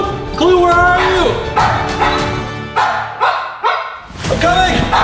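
A kidnapped dog barks and yips in several sharp bursts spread through the clip, close and loud, with a person talking over and between them.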